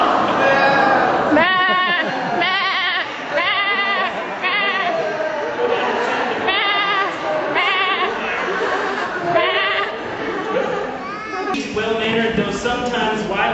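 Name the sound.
people imitating sheep bleating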